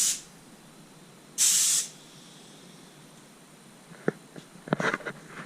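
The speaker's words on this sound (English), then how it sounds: "you can hear air coming out of the compressor" Air hisses out of an air compressor in two short bursts, a brief one at the start and a louder one a moment later, followed by quiet background and a few faint clicks and knocks.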